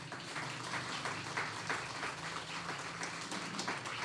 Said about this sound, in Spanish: les damos la bienvenida y les regalamos un fuerte aplauso